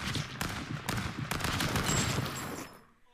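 Rapid bursts of video game gunfire crackle in quick clusters, close and fairly loud, before cutting off to near silence.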